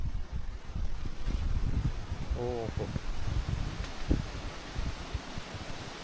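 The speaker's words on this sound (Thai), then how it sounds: "เสียงลมนะ" Wind blows through a forest on a cold, stormy night, a continuous low rushing roar with a brief exclamation from a voice partway through.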